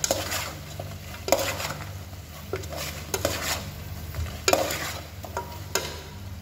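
Chicken feet adobo stirred in oil in a pan: a spoon repeatedly scrapes and clinks against the pan over a steady, close sizzle.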